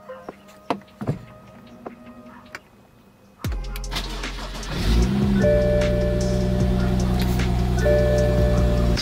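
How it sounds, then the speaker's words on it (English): BMW 335i F30 engine cranked and started after a few clicks and small knocks, catching with a sharp roar and then settling into a loud, steady idle close by. "Now I'm gonna start the car."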